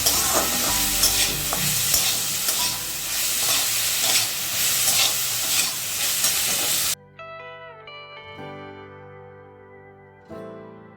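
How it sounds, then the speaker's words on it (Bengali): Vegetables with turmeric sizzle loudly as they are stirred and fried for sabudana khichuri, with dense scraping strokes for about seven seconds before the frying stops and gentle music takes over. "হলুদ করে ভালো করে মিশিয়ে নেবো আর সবজিটাকে আমরা একটু হালকা ভেজে নেবো"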